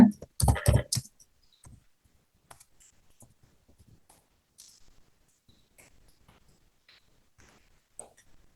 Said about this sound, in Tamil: ஸோ இதுல நீங்க உங்களுடைய ஃபுல் நேமை டைப் பண்ணிக்கோங்க